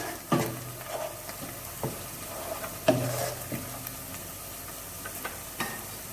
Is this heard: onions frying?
yes